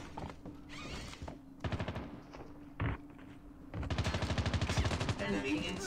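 A sharp Outlaw sniper rifle shot in Call of Duty Mobile, heard alongside quick bursts of rattling automatic fire, all fairly faint and separated by short quiet gaps.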